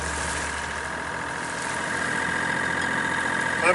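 A sailing yacht's inboard engine motors steadily out of the Menai Strait, a continuous mid-pitched drone with a faint whine, close and unbroken throughout.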